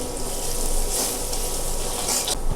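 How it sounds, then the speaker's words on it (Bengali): Onions and chilies with spices sizzle steadily in a pan, a continuous close frying hiss with faint stirring scrapes and no talk. "তো এবার একটু ভালো করে নাড়াচাড়া করে নিচ্ছি।"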